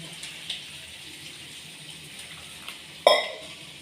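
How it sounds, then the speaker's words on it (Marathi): Barnyard millet grains are rinsed in water in a kitchen, with faint sloshing and a few soft splashes, then one sharper, louder splash near the end. No one speaks. "मी तर मस्त दोन वाट्या बगर घेतले त्याचे धुवून घेते स्वच्छ"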